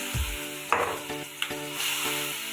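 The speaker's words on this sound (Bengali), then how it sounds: "এখন আমি এই মিক্সি দইয়া জল দিলাইমু" Water rinsed from a mixer jar hits hot oil with a sharp splash and a bright burst of sizzling. A few scraping stirs follow, and a steady hiss carries on close by.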